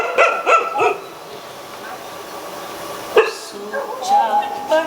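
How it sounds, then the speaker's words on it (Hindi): Dogs barking in a few short bursts, moderately close, as a sound effect in a live stage production of The House of Bernarda Alba, with actors' voices speaking over and between the barks. "कुत्ते लगता है पागल हो गए आज।"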